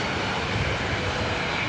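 Southwest Airlines Boeing 737-700 jet at an airport, a steady broad engine roar that holds at even loudness throughout.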